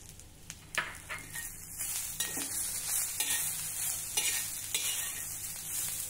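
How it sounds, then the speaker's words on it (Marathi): Tomato and coriander sautéed with onion and coconut in a pan for a Vidarbha-style patvadi rassa, with close stirring scrapes and clinks over a soft continuous sizzle. "हे देखील ह्या कांदा आणि खोबऱ्यासोबत आपण जरा परतून घेऊ"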